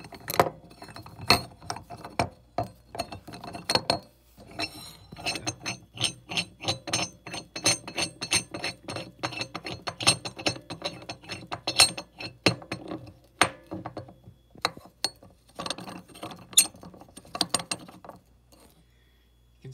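AK-47 barrel being screwed by hand into the threads of a receiver stub, a close run of irregular metallic clicks, scrapes and clunks that continue steadily, with brief pauses, for about twenty seconds.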